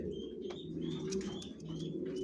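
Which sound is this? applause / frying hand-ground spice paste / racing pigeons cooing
racing pigeons cooing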